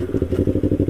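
A motorcycle engine chugs close by in a quick, even run of pulsing thumps, loud and alone with no voices.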